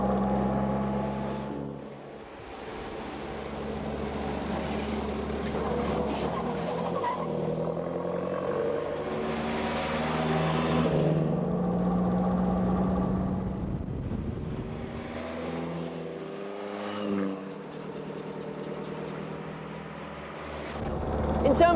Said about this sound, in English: the car is surprisingly nippy, helped by the massive torque and pulling power of the low-revving engine